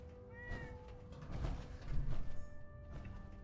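A cat meows a few times in Fallout 4, short tonal calls rising over a steady in-game ambient hum and low rumble, fairly quiet.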